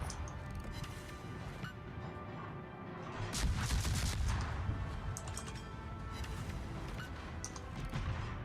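Video game gunfire rattles on steadily at low volume, with dense repeated shots and occasional louder crashing bursts forming a constant background of battle noise.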